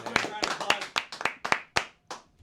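A few people clap unevenly in a small group, giving sharp, separate hand claps roughly every quarter second that fade out toward the end, close and moderately loud with voices murmuring underneath.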